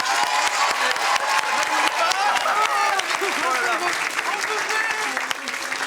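A studio audience claps and cheers at a French talk show: dense, steady applause fills the whole stretch, with voices and laughter mixed into it.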